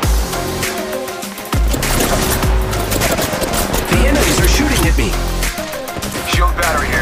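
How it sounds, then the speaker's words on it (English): Gunfire in the mobile battle-royale game Apex Legends Mobile, with dense, continuous bursts of shots and impacts throughout and a loud game soundscape. "I am taking fire, friends."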